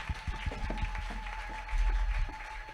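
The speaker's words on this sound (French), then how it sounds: "Betela kolo maboko makasi." Church congregation at an evangelical worship service applauding for the Lord, a dense continuous patter of many hands clapping at moderate distance, with a steady tone and faint voices underneath.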